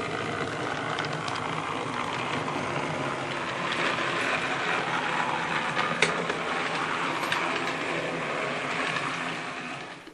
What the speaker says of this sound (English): The loco's running